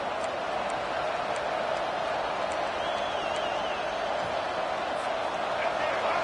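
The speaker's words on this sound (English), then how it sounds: "The roar of the crowd trying to fuel this defense to keep them pinned in their own end." A college football stadium crowd keeps up a dense, continuous roar for several seconds, a broad, even wash of noise with a commentator talking over it.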